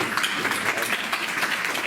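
Brief burst of audience applause for panel speakers at an alliance launch event, dense even clapping from a room of people.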